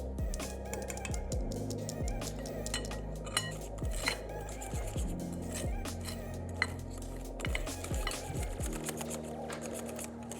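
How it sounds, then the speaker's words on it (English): Cornstarch being sifted into a custard, a steady soft rattle of the sieve with repeated light metallic taps and clinks, close and moderately loud, under a low background hum. "now we're gonna add in the cornstarch, but we're gonna sift it so there's no lumps"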